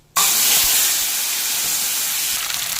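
Ground green chili and cumin spice paste hits a hot wok and erupts into a loud, sudden sizzling hiss that holds steady and close for a few seconds.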